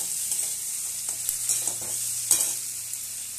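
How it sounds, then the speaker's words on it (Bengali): Potatoes frying in oil with five-spice seeds and dried chilli, a soft steady sizzle with light scattered crackles and occasional stirring scrapes, no voices. "কাঁচা তেলে দেখো 5 ফোড়ন আর একটু শুকনো লঙ্কা দিয়ে দিয়েছি, দিয়ে আলু দিয়ে একটু ভাজছি।"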